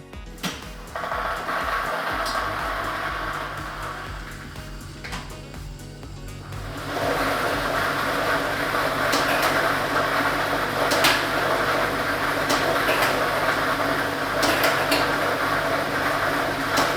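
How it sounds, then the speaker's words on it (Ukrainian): A lottery ball drawing machine with a set of numbered balls is switched on for a televised draw, giving a steady mechanical whir and a dense rattle of tumbling balls that grows louder and busier after the first few seconds. "Тиражна комісія до початку гри довільно обрала лототрон Б комплект кульок номер 1 і ми вмикаємо лототрон"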